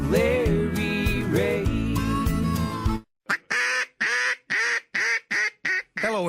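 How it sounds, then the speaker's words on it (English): A Double Nasty 3 duck call made in Memphis, Tennessee, blown in a fast run of about eight loud, clipped quacks after a burst of music. "what you just heard is our all-new Double Nasty 3 duck call"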